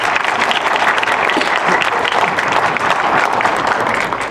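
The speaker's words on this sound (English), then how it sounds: "how about a round of applause for these 7 candidates?" A loud, steady round of applause from a forum audience for seven candidates in an Oxnard recall election, dense clapping sustained throughout.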